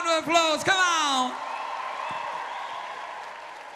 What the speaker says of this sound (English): Let's give it a Gibraltarian round of applause, come on!